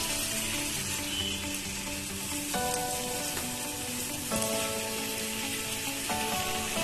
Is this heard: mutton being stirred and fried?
yes